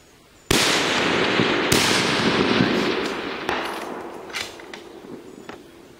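A gunshot at a long-distance shooting range, one sharp loud crack followed by a long rolling echo, then a second fainter crack and a few more distant, weaker reports as the sound fades.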